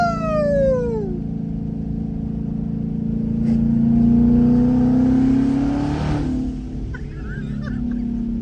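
A twin-turbo Ford Mustang engine revs hard up and down, loud and close, with rising and falling sweeps and the whine of spooling turbos.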